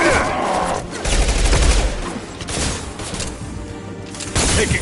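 Rapid bursts of gunfire in the Mass Effect 2 Legendary Edition video game, a dense, loud stretch of overlapping shots and impacts with game sound mixed underneath.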